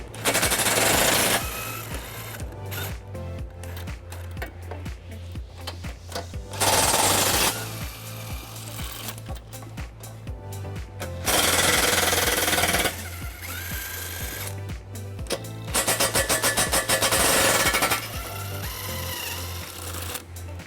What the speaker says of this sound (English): We are going to remove the 4 nuts that are holding it into place.